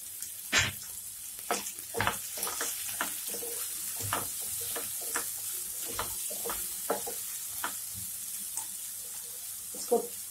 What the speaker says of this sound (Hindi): इसको 3-4 मिनट भूनेंगे। इसको हल्का सा चलाते रहेंगे।